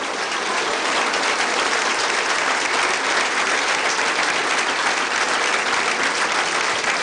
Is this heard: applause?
yes